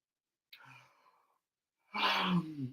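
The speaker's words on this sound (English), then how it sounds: "You see how I'm yawning?" A person gives a long yawn shortly after lunch, starting with a soft breathy intake and ending in a louder, drawn-out voiced exhale. The yawn is close and heard alone.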